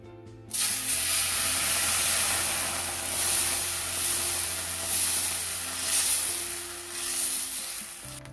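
Puffed rice dosa batter hits a hot tawa and breaks into a loud, steady sizzle. The hiss is bright and continuous, swells and eases slightly, and there is no talk over it.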